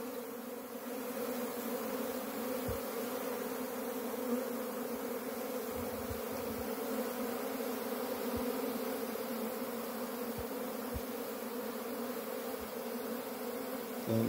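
Honeybees buzzing steadily at the entrance of a small nuke box hive, a continuous close drone of many wings throughout with occasional low thumps and no talk.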